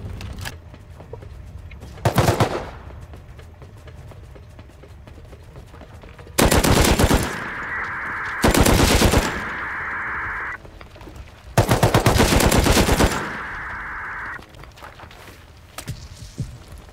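Gunfire in the survival game Rust: several loud sustained bursts of automatic fire, with a short shot early on and two long volleys, each trailing into a lingering ringing tone, heard alone without talk.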